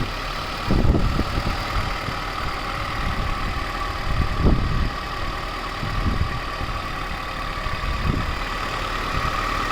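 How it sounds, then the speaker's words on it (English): A 4x4 petrol Maruti Gypsy, in stock condition, runs close by with a steady engine drone and several brief revs rising above it, alone with no talking. "Right now you can just check out the engine rev sound, how beautiful it is."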